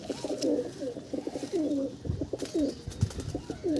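Several Madras pigeons in a loft coo in overlapping, repeated low rolling calls, close and continuous, with faint rustling in the background.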